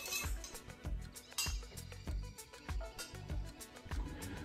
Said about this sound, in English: don't forget to stir for at least 30 seconds per minute